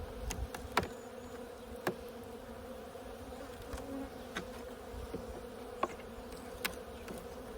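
Honey bees hum quietly around a hive, a low steady drone with scattered soft clicks and taps from insects close by, no talking.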